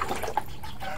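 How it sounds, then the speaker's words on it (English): A duckling hops into water on its first swim, making small close splashes and light dripping, watery patters over about a second. "Okay, it jumping in the water."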